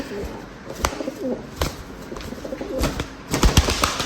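A chocolate-coloured pigeon coos in soft, low, repeated calls close by, mixed with sharp wing flaps and other birds in the background.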